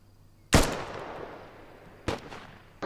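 Gunshots crack during infantry shooting range training: one loud report followed by a trailing echo, then two more sharper shots in quick succession, fairly close, with no talk.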